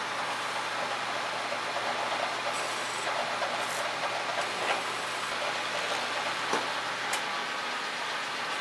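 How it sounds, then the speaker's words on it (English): Milling a 3/8-inch injector hole into an LS fuel rail for a Roots blower build gives a steady, dense machine whine and cutting hiss with faint ticks, continuous and unvarying throughout, with no voices. "So I'm going to start by milling that."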